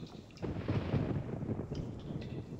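Thunder in the video game RealMyst Masterpiece Edition, a low, muffled rumble that swells briefly and fades into a soft windy background, heard alone without talk.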